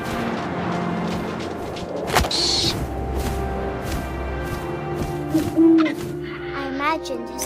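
Owl hooting in the game What Remains of Edith Finch, a few clear hoots over wind and ambient rumble with a thud, voice-over narration nearby.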